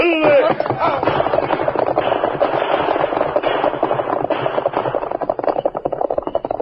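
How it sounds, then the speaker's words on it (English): Radio-drama gunfire effect in a Western range-war scene, a dense, continuous crackle of rapid shots lasting several seconds, loud and close with no voices over it. "There was no need to return their fire, Tonto."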